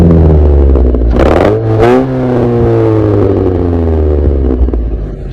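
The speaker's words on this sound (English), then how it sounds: "if we rev up that exhaust there, let's see if you can hear it over the wind here." A deep aftermarket exhaust on an Apocalypse Patriot truck build revs up twice in quick surges, then settles into a low, rumbling idle, loud and close amid wind noise.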